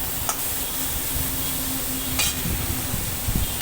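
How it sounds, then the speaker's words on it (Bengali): Pineapple pieces fry with salt and turmeric in a pan, giving a steady soft sizzle with occasional light stirring clicks of a utensil. "এই যে আনারসটা হালকা করে আমার ভাজা হয়ে গেছে"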